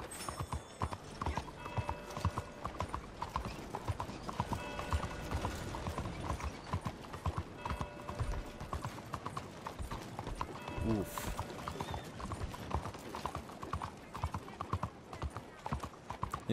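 Clip-clop hoofbeats of a horse galloping in Red Dead Redemption, steady and rhythmic throughout with a brief whinny, a voice talking over the hooves.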